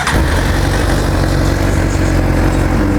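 A Suzuki GSX-R1000 motorcycle engine fires up from the start and settles into a loud, close, rumbling idle with a steady rough pulse, running alone without voices.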